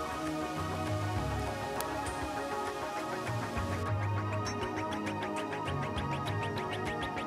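Steady rain patters continuously in Canyon de Chelly, with scattered drips and a faint rhythmic ticking against a hard surface, close by and moderately loud.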